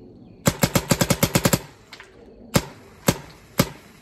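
A rapid burst of about nine snappy shots from an Alien Invasion airsoft gun, followed after a pause by three single spaced shots, all close and loud with no talking.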